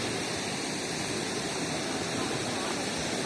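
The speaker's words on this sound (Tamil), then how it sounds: "இதுதாங்க அந்த வாட்டர் ஃபால்ஸ்." Steady, dense rushing of a waterfall in Munnar, constant and broadband with no breaks, fairly close and loud throughout.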